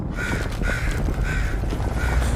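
A crow caws four times in a steady rhythm in an animated RWBY episode, loud and close over a dense, rumbling background with no talking.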